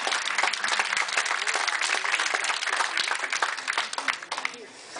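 A casino show audience gives a round of applause, dense and loud throughout, thinning slightly in the last second.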